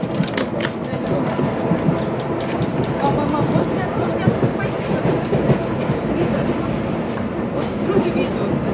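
Rumbling train interior noise with rhythmic clicking of wheels over rail joints, loud and continuous, with muffled voices underneath.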